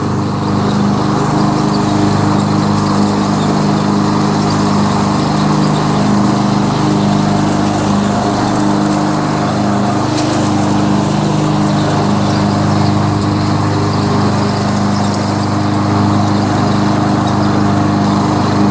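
A Toro SR4 Super Recycler rear-wheel-drive mower with a Loncin clone engine runs steadily close by, a loud, even engine drone that holds constant throughout with no talking.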